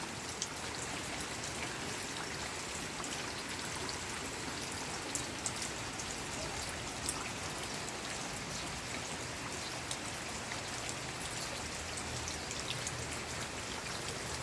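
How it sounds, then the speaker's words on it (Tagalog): Steady rain falls beside a house, a dense even patter of drops on surfaces with no voices, continuous and fairly close throughout. "Thank you, Lord, sa paulan na binigay mo sa sobrang init."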